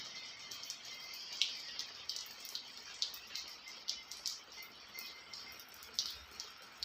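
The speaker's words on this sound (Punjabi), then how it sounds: "ਹੁਣ ਵੀ ਰਿਸ਼ਮੀ ਬਾਰਿਸ਼ ਫੁੱਲ ਹੋ ਰਹੀ ਆ" Light rain falling outdoors on a farm at night, soft scattered drips and ticks landing irregularly, faint and close over a quiet background.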